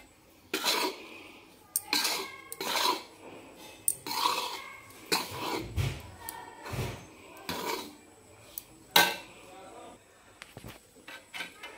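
Besan flour being roasted in a pan for besan ladoo, heard as repeated scraping and clinking of a spatula against the metal pan, close and fairly loud, coming in irregular bursts with short pauses between.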